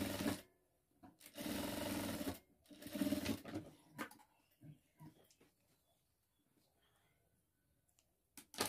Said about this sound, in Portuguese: Traz na máquina aqui de novo e dá uma costurinha.